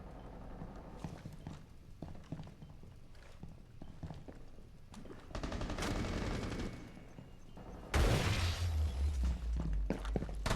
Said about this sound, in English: I literally pulled the trigger!